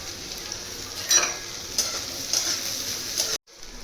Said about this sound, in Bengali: প্রথমে আমি একটা বড় সাইজের পেঁয়াজকে এরকম করে কেটে নিয়েছি, ওইটাকে ভেজে নেব।